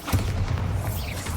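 Bombarda explosion spell cast in Hogwarts Legacy, a deep booming blast with a thudding low rumble that sustains loudly through the moment.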